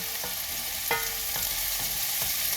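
Food sizzles gently in a pan while cooking for Puerto Rican style beans, a steady hiss broken by a few soft stirring clicks, fairly quiet and with no voices.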